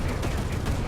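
A 20mm naval gun firing in War Thunder, heard as a dense, rapid burst of loud gunfire blending into a continuous rattling roar for about a second.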